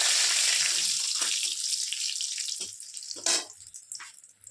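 Bay leaf, dried red chilli and cardamom sizzle in hot oil in a home kitchen after potatoes are fried, a steady bright crackle that fades over several seconds, with a few soft clinks and a brief louder burst near the end.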